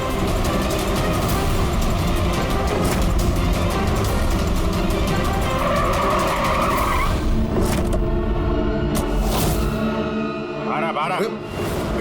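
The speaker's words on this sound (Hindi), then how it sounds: "वो रही कार।" A car races past with tires skidding and squealing amid dense, loud rumbling engine noise and dramatic background music. The roar fades toward the end, and a voice talks faintly beneath the din.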